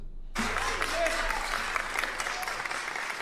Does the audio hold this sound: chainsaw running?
no